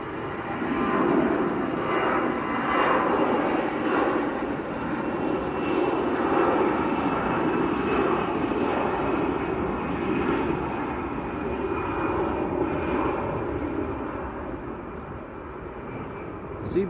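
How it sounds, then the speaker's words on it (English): A military air tanker aircraft roars steadily at Manchester Airport, a broad sustained engine rumble heard from a distance for the whole stretch, easing slightly near the end. "because it's technically a military aircraft"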